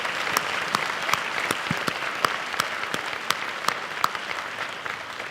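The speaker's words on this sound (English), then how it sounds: "Let's give all our Hall of Famers a round of applause." Audience applause for Hall of Fame inductees at a university baseball coaches' banquet, a steady roomful of clapping with individual sharp claps standing out near the listener, continuing evenly for several seconds without talk.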